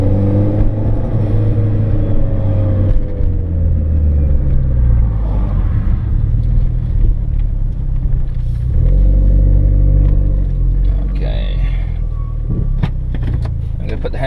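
A Mitsubishi Evo X MR running on E85 idles with a steady, loud low rumble throughout, interior cabin hum with a few faint clicks and rattles, no talk.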